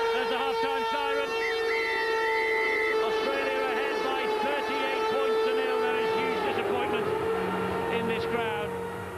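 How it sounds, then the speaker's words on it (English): A sustained tonal siren marks half-time at a rugby league final between Great Britain and Australia, sounding steadily over crowd roar while a commentator talks. "There's the half-time siren."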